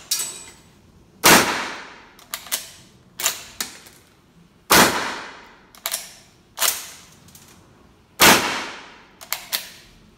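Sharp, loud gunshots from a Rossi 92 lever-action carbine ring out at intervals, each main blast followed by quicker smaller cracks and metallic clacks, echoing outdoors with no talking.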